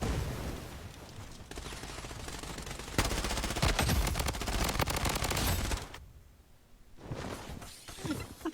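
Sustained automatic gunfire and sharp impact cracks in the Blood Strike shooter game, loud and dense bursts that pause briefly before another volley.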